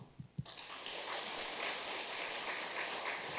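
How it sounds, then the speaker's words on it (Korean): Sustained applause from a church congregation at a Sunday worship service, a dense steady wash of clapping that starts abruptly after a couple of isolated claps and fills the room without talk. "박수"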